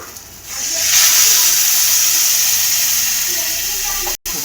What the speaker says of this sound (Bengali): তো অল্প করে একটু জল দিয়ে দেবো।